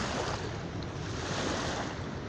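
Water washes and rushes steadily at Sinnar Dam in Sudan, a continuous broad wash of waves mixed with gusty wind buffeting the microphone and no voices.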